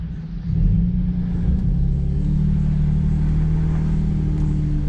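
A 2WD truck in sport mode with traction control switched off accelerates hard off-road, a loud, steady low engine rumble that swells as it climbs and holds for the whole stretch, with no talking.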